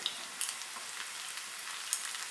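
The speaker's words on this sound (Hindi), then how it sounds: "और इसको 1 मिनट फ्राई करेंगे।" Quiet, steady sizzling of onion and crushed garlic frying in hot oil nearby, with occasional soft pops and stirring sounds.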